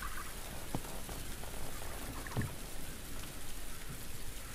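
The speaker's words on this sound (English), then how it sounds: "There's some loud frogs." Loud frogs croak in a video game setting, throaty gobbling calls rising now and then over a constant wash of rain-like background noise.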